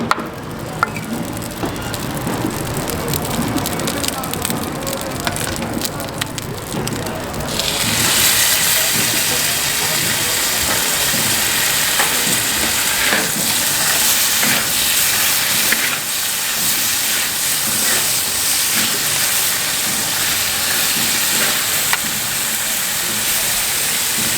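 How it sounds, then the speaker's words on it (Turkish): Chicken sizzles loudly on a hot griddle, a bright continuous hiss that swells suddenly and keeps crackling steadily, with faint voices in the background. "Tavuğu burada kavuracağız."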